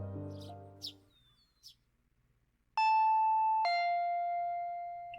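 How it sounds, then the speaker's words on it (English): An electronic two-tone doorbell chime, a bright ding followed by a lower dong that rings on and fades, sounding alone after some faint voice-like chirps. "Ding dong!"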